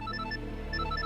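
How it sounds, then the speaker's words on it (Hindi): A telephone ringing in a home, a steady repeating electronic ring with short bright tones pulsing continuously at moderate level, no talk over it. "किसका फोन है?"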